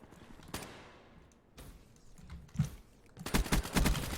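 Gunfire in a video game: a few scattered single shots, then a dense burst of rapid automatic fire toward the end, moderately loud with no talking.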